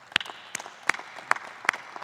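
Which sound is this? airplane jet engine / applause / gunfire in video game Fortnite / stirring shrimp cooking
applause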